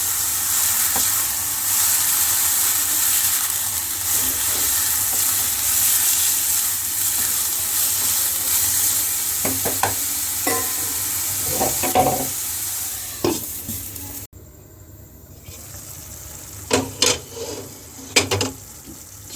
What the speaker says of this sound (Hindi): मैरिनेट किया हुआ कीमा डाल देंगे, मिक्स करेंगे और हल्की आंच पर 20 मिनट पकाएंगे।